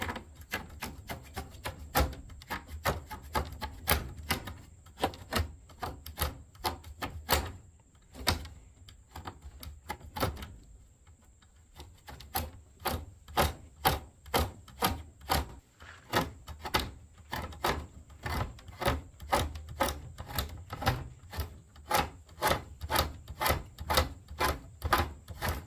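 A Grim Workshop scoop carving tool shaves along a rough wooden pole in repeated quick rasping strokes, a steady rhythmic scraping up close with a brief pause partway through.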